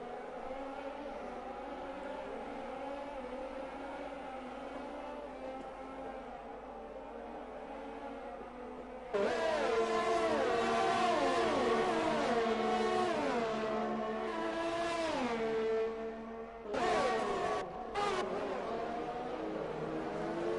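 Race cars in a racing video game set at the Netherlands track, engines humming quietly at first, then a sudden louder burst of revving and shifting pitch as cars close up and accelerate nearby.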